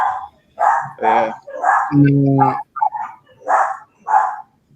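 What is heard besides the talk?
dog barking excitedly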